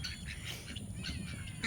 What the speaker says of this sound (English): I have 8 ducks.